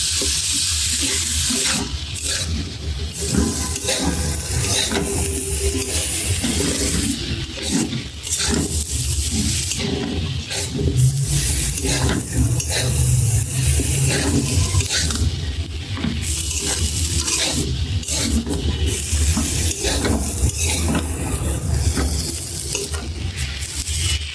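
Okra and potato pieces frying in a pan, heard as a loud, continuous sizzle throughout while a utensil scrapes and stirs them.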